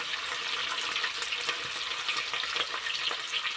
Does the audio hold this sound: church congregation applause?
no